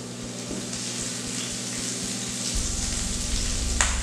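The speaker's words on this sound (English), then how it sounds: "we're gonna let that sizzle for just a second" Garlic and broccoli sizzle steadily in hot oil in a pan, a continuous close frying hiss with a low hum underneath that grows slightly louder partway through, with no talking.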